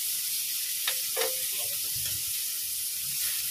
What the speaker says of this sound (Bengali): উচ্ছেটাকে লাল লাল করে ভাজবো